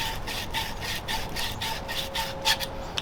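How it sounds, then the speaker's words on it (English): Sandpaper is rubbed back and forth on copper pipe to remove corrosion, making a steady, close, rhythmic rasping scrape with repeated strokes and no talk. "So you take your sandpaper and you want to get all corrosion off that pipe."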